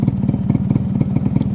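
Yamaha RX100 two-stroke motorcycle idling at close range, its silencer exhaust giving a loud, steady, rapid popping pulse with a hand held over the silencer outlet.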